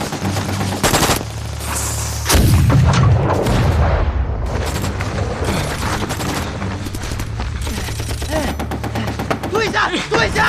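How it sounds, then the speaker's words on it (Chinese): Gunfire crackles through a war-film battle scene set in a defensive stand against bombing, with rapid bursts, heavy booms and machine-gun rattle in dense volleys, and shouted voices mixed in. "开枪！"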